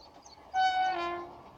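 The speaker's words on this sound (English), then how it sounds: "train will now toot" A passing train sounds one sustained horn blast at a level crossing beside a home vegetable garden, rising suddenly and fading gradually, with no voices.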